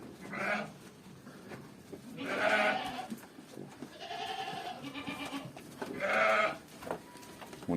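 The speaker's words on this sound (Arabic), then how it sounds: "ابن خروف ما شاء الله فوق 180 كيلو، عسافي أصلي ومعزة خليط قبرصي" Awassi sheep and Cypriot mixed-breed goats bleat in several distinct calls spaced a few seconds apart, close and moderately loud over quiet barnyard background.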